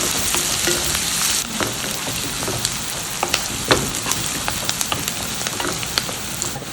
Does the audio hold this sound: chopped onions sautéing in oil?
yes